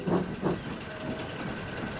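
Steam engine releasing a soft, continuous hiss, with two quick puffs at the start before the steam settles into a steady faint rush, heard alone.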